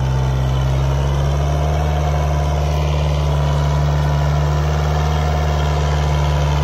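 A Kubota 4x4 tractor pulling a harrow, its diesel engine droning loud and steady at close range with a strong low hum and no pauses or voices.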